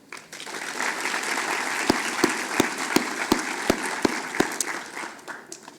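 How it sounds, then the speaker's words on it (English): Steady audience applause honors the sponsors at a Houston business and nonprofit event. The crowd claps evenly throughout, with several crisp, loud claps from someone close by. "Let's give another round of applause to our incredible sponsors."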